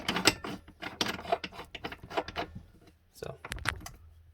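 Wen four-jaw chuck on a wood lathe being tightened around a wood piece, giving irregular close metallic ratcheting clicks and gear-like rattles in short bursts with pauses.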